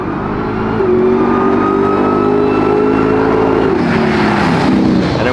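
Supercharged Hellcat engine in a 1967 Dodge Dart revving loudly up close, a sustained rising roar that climbs then drops and settles into a rough idle, no talk.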